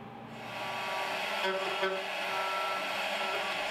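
A CNC router makes a 3D finishing pass with a 1/8 inch ball nose bit, giving a steady whirring drone with faint tonal whines near the machine.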